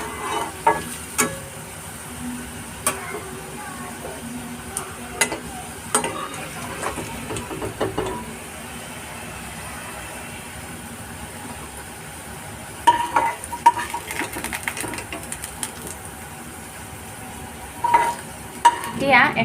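Carrots and potatoes frying in a pan, a soft steady sizzle running throughout with intermittent stirring scrapes and clinks, busiest near the start and again toward the end.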